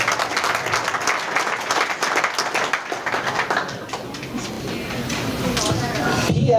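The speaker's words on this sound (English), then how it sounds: "good choose round of applause" Banquet audience giving a round of applause, a dense crowd of clapping hands that carries on for several seconds, with some talk mixed in and a swell of clapping near the end.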